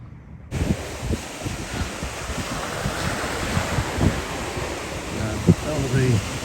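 Strong evening wind gusting over a moored sailing boat with waves washing around it at an ebbing tide, a dense rushing roar with buffeting on the microphone and a faint voice underneath.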